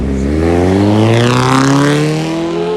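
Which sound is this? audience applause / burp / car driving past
car driving past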